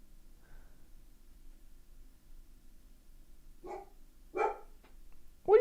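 A dog barks a few times indoors, short sharp yaps in an uneven run building toward the end, fairly close against a quiet room hum.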